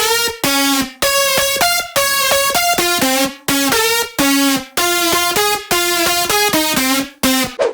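Layered synth leads in a future house track play a choppy, rhythmic melody together, bright stacked harmonics stepping through short notes with brief gaps, loud and steady across the whole stretch with no talk.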